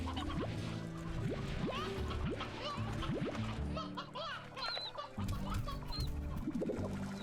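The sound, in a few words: chickens clucking in the video game Slime Rancher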